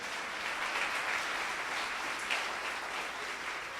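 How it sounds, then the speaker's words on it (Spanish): A church congregation applauds together during a Spanish-language sermon, a steady wash of clapping held at an even level for a few seconds, moderately near and without talk over it. "Alguien que aplaude esa palabra en el nombre de Jesús."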